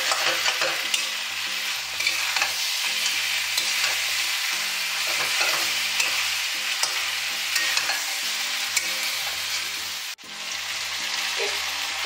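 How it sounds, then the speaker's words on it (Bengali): Onions and a fish head frying in a wok, a loud continuous sizzle broken by rhythmic scraping strokes of a stirring spatula, close and without talk. "মাছের মাথা দিয়ে পেঁয়াজটাকে ভালো করে কষে নিতে হবে।"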